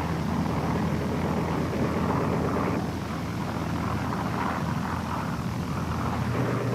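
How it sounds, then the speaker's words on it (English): A steady, loud roar of propeller-driven aircraft engines fills the scene, like World War II American attack planes flying over a Japanese fleet, continuous and droning with no talk. "the American planes met a wall of anti-aircraft fire"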